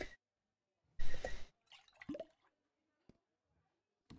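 Water splashes while a milk jug is rinsed in the Barista Sim coffee-making game, heard as a loud wet burst followed by a few shorter sloshes and faint drips with quiet gaps between.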